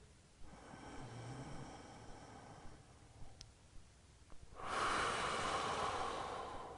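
Someone breathes slowly and deeply while holding a passive yoga stretch. Soft, close inhales and exhales come first, then a louder, longer breathy exhale near the end.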